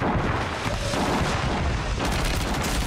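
Sniper shots and heavy gunfire in the Warzone battle royale game, loud booming reports and blasts filling the moment in a chaotic firefight, with no talk over them.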